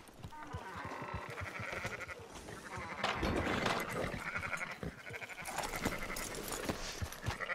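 Sheep bleat repeatedly in Red Dead Redemption 2 over a busy backdrop of clattering and layered game music, the calls rising and falling at close range.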